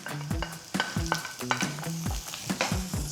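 Onions and peppers stir-frying together in a little rice bran oil for black pepper beef, a steady sizzle broken by repeated scraping strokes of a utensil across the pan, close and fairly loud with no talk.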